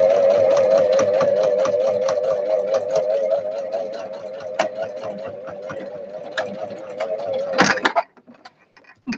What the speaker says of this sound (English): I'm gonna sew this pocket on. So I'm going to sew it on at an angle.